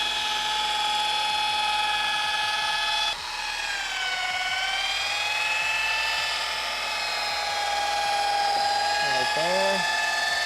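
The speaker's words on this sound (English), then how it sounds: "So now that we finished polishing out this headlight, I'll take the machine from you." A machine polisher buffing a hazy, yellowed car headlight during a restoration whines steadily and loudly throughout, with its pitch dipping and drifting as pressure changes, while people talk briefly over it.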